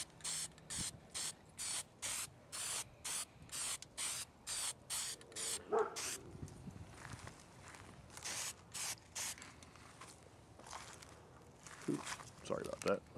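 Rust-Oleum Hammered spray paint hisses out of the can onto a plastic box in a string of short, even bursts, then gives way to quieter handling noises.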